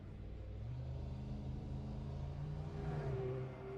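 Hypercar in a racing video game rolls past on a formation lap, a steady low engine rumble with a brief rising whine as it draws alongside, moderately loud and continuous with no talk.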